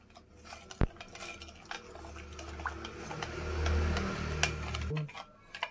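Spoon stirring powdered sugar into milk in a bowl for a quick choco lava cake batter, a soft steady scraping swirl close by with a few light clinks against the bowl.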